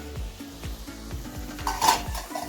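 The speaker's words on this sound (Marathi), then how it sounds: "हे साफ केलेली मी फ्लावर घालून घेणार आहे" Cleaned cauliflower florets go into a hot pan of pav bhaji vegetables, sizzling and frying while a spoon stirs and scrapes in a steady rhythm, with a few pot clinks, close and moderately loud, no talking.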